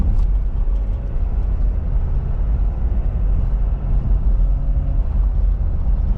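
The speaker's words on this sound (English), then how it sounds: "I will do a acceleration here so you can see the RPMs." A 2022 Ford F250 XLT pickup truck accelerates, its engine giving a loud, steady low rumble that holds for the full six seconds with no voices.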